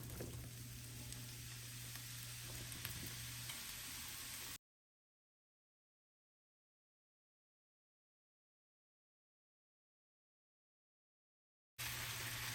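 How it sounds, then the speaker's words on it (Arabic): Mushrooms sauté in butter and olive oil in a pan, giving a steady close sizzle for several seconds before a long stretch of silence, then the frying resumes. "غادي نسوطي دابا الشامبينيون"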